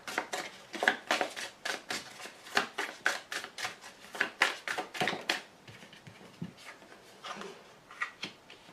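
Tarot cards handled during a reading: a run of crisp paper slaps and riffles, some quick and close together, others spaced apart, with a brief shuffling flurry near the end and no voices.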